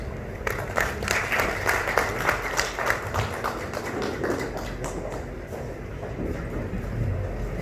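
Sustained applause from a ceremony audience honoring the UNFPA representative at a Haitian women's rights event, dense steady clapping that fills the whole stretch at a constant level.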